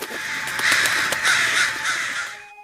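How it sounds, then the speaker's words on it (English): Crows caw repeatedly in the horror video game Noel the Mortal Fate, loud, harsh calls overlapping in quick succession for a couple of seconds before fading out. "Crows. They seem a bit ominous."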